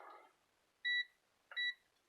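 A multimeter in continuity mode gives two short, clean electronic beeps while probing an 18V NiCd DeWalt battery pack, with a faint rustle just before the first tone.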